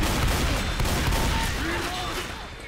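Sustained gunfire from the zombie shooter Left 4 Dead 2 is loud and dense, with overlapping rapid shots forming a continuous roar throughout.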